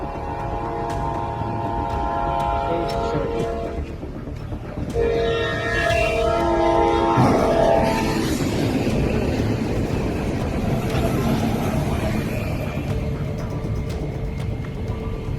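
A freight train rumbles through a railway and road level crossing, with sustained horn tones and a steady roar of rolling wagons that builds and stays loud and close throughout.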